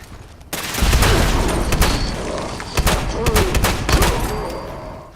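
Missile explosions and heavy gunfire in Fallout 76 erupt in a loud, dense barrage of booms and sharp cracks, repeated blasts rolling one into another for several seconds.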